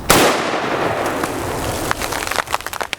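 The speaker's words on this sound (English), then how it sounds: "We'll run this through the 24-inch M1 Garand at about 12 feet" A 24-inch M1 Garand fires a .30-06 100-grain copper hollow point round outdoors: one sharp, loud blast, then a long decaying echo with faint scattered crackles.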